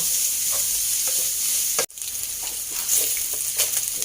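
Pork with ginger and garlic being stir-fried in a pan: a loud, steady sizzle close by, broken by one brief dropout as the ingredients are tossed, with no talking.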